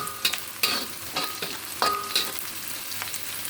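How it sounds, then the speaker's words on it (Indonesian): Sliced shallots and garlic stir-frying in hot oil, a steady close sizzle punctuated by sharp scrapes and clacks of a spatula stirring the pan. "tumis terlebih dahulu irisan bawang merah dan irisan bawang putih"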